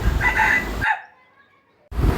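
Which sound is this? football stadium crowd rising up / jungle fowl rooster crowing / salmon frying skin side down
jungle fowl rooster crowing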